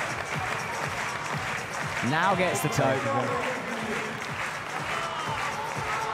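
A crowd at a bouldering finals in Munich applauds and cheers a climber, a continuous roar that swells midway, under a commentator talking over it.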